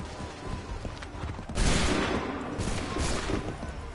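A musket volley in Assassin's Creed III rings out as one loud, ragged crack of many shots fired together. A second, smaller volley follows, set against battlefield ambience.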